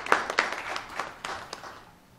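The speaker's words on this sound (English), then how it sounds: "give them a round of applause" An audience claps for students, a short scattered burst of applause that starts strong and fades over two seconds.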